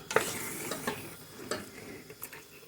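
Dry pepper and spices being stirred into goat meat in a pot, with scraping spoon strokes and light sizzling repeating irregularly, close and moderately quiet, no talking.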